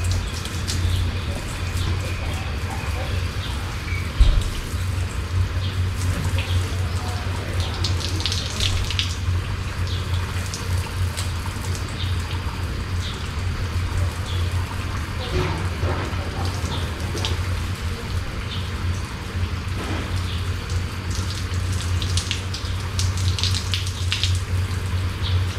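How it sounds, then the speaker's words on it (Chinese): Shower water runs steadily inside a shower tent beside a camper van, making a continuous spraying hiss over a low droning hum, with a few faint knocks along the way. "洗澡喽。"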